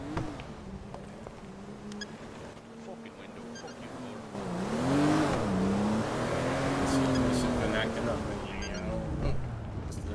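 A car engine in a video game roleplay hums and revs as the vehicle drives, its pitch rising and falling steadily under people talking throughout.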